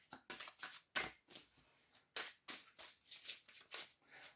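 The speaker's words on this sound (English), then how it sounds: "So while I'm shuffling, I'm waiting for a card to like jump out." A deck of tarot-style cards is shuffled close up: quiet, crisp riffling and sliding bursts in an uneven rhythm, with soft pauses between handfuls.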